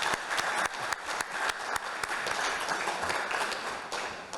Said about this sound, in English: So please, a round of applause for this translator.